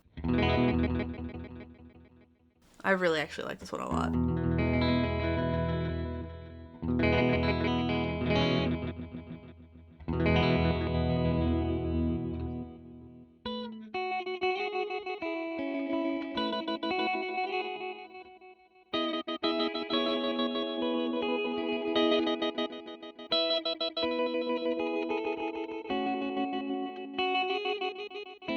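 Guitar fed through an Eventide Ultratap delay on the Glitchtrigger preset using its trigger function: sustained chords break into stuttering, evenly spaced repeating taps that swell and cut off in phrases, with a brief spoken comment early on.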